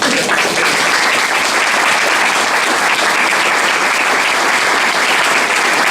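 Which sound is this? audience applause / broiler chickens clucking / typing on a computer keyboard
audience applause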